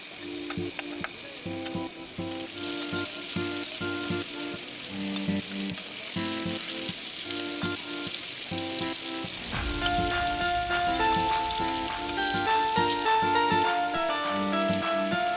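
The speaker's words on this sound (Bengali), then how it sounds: "কড়াইতে আমি তেল দিয়ে দিয়েছি, দিয়ে এবারে আমি চিংড়ি মাছগুলোকে ভালো করে ভেজে তুলে নিচ্ছি।" Shrimp frying in hot oil in a wok, a steady dense sizzle and crackle throughout, with occasional stirring and music-like tones playing underneath.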